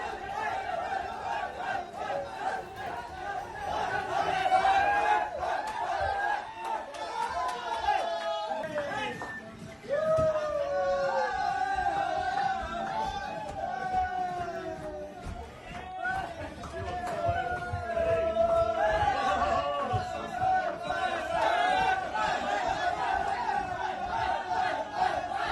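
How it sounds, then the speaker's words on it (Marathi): Family members and a crowd cheer and shout loudly, celebrating India's hockey bronze medal. The noise is dense and sustained, with raised voices and chant-like calls throughout, dipping briefly midway before surging again. "त्यांच्या कुटुंबियांनी असा जोरदार जल्लोष केला"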